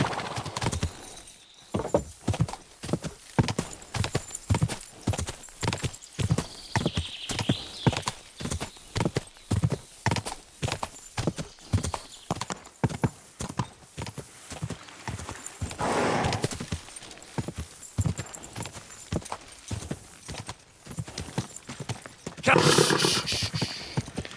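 Horse in the medieval video game Kingdom Come Deliverance, hooves clip-clopping in a fast steady gallop under a lively mix, with a brief whinny and louder bursts near the end.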